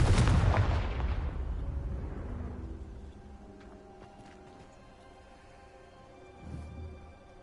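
Confringo spell explosion in Hogwarts Legacy: a single loud, booming blast at the start that decays into a rumbling tail with scattered debris crackles, then a softer low thump near the end.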